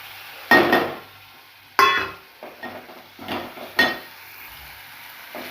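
Pieces of oil-fried paneer go into a pan of matar paneer: a few loud, sharp clattering drops and scrapes land over a brief sizzle, separated by quieter gaps, with no talking.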